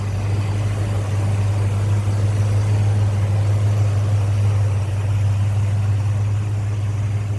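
The engine of a 1964 Oldsmobile Cutlass convertible with HEI ignition idles steadily, a loud, even low hum and rumble that stays constant and close for the whole stretch, with no voices over it.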